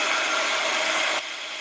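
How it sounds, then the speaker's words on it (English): A heat gun blasts over freshly stamped background paper with a loud, steady, close hissing roar. Partway through, the roar abruptly drops to a lower level and keeps going. "So I'm just going to quickly blast it with my heat gun"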